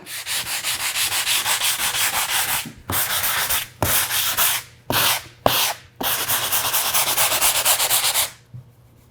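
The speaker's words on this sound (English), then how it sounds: "We want to give it a bit of a sanding." Sandpaper lightly sands milk paint in rapid, steady back-and-forth strokes, with a few brief pauses between bursts of sanding, close and alone.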